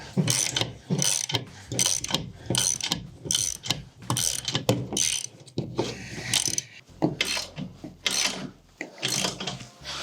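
Winch on a steel tent jack mast being cranked tight, a run of close, rapid ratcheting clicks in repeated bursts with brief pauses between, near and fairly loud, no talking.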